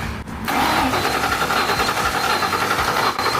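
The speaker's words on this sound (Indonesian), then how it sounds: "Baiklah, setidaknya kita sudah memutar mesinnya." An old, abandoned Ford Mustang GT engine cranks over steadily for a few seconds, giving a close, continuous churning drone with a rapid mechanical pulse and no voices.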